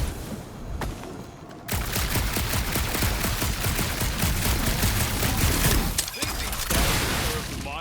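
Sustained rapid automatic gunfire from the video game Guardians of the Galaxy rattles loud and close for several seconds, briefly pausing before resuming, with voices partly buried beneath the shooting.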